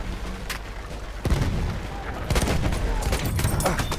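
Dense battlefield gunfire from Battlefield 1, rifle shots and rattling bursts cracking over a constant roar of explosions and artillery, loud and continuous throughout.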